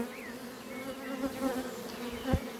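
Ukrainian steppe honey bees buzz steadily at their hive in summer heat, a close, continuous drone with a few louder passes as single bees fly near, and a brief thump near the end.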